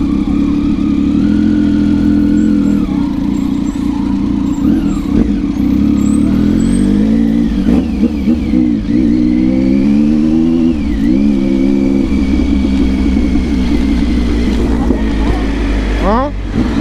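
Honda Tiger motorcycle revving hard while doing wheelies, a loud, close engine roar that rises and falls in pitch throughout, with a person talking over it.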